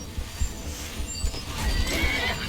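Horse in the Skyrim video game whinnying amid hoof thuds, with low rumbling steps and a rising background wash; no speech.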